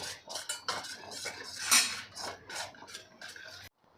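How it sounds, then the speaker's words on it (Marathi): Rice flour dough for papad being mixed in a bowl, a steady run of scraping and clinking of a utensil against the bowl for several seconds with no talk, ending abruptly. "आता हे आपल्याला गठुळे न होता एकसारखं मिक्स करून घ्यायचं आहे"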